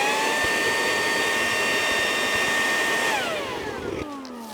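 A powerful air blower roars steadily at a Coleman Hyperflame Fyreknight camping stove flame, a loud whining whoosh with a strong tonal hum that winds down in pitch near the end as it is switched off.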